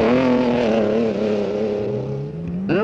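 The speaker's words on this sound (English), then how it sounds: "Walter Rohrl in the second Audi, closely pursued by Bjorn Waldegard" A 1980s Audi rally car on the road during the 1987 East African Safari Rally, its engine droning steadily and loudly close by, then the revs climb sharply near the end.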